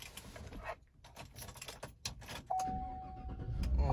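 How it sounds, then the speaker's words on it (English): A 2018 Chevrolet Silverado 1500 LTZ is started after keys jangle and rustle nearby; the starter whirs briefly and the engine catches into a steady, low idle that grows louder. "I'm going to use that to start the vehicle."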